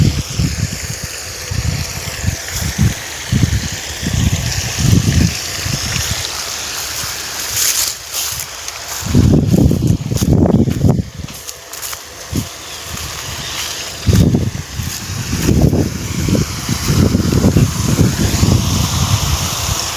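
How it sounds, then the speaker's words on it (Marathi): Irrigation water runs from taps onto an onion field on a farm, a rushing, splashing flow heard outdoors under intermittent low rumbles of wind buffeting. "कांद्याला पाणी सुरू आहे बघा"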